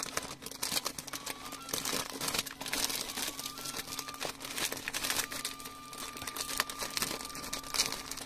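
Crinkling plastic packaging of a Seria scorch-and-rust cleaning pad pack, six pads, made in China, rustling and crackling continuously and close up with irregular crisp bursts, with no talking.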